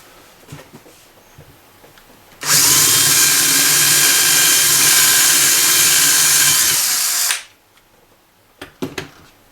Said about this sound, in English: Let's go ahead and get a drill.